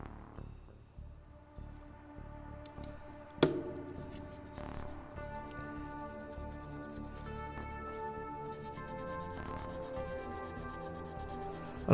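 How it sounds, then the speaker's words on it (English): Faint rubbing and scraping of sandpaper on a small painted figure, quiet irregular strokes close to the microphone, with a sharp tap near the start and soft background music. "I'll have to blast that and sand it down."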